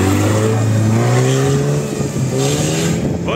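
A Lada Niva's engine revs hard and sustained as it drives through deep ruts off-road, a loud continuous whine rising and falling in pitch, close and alone with no talk.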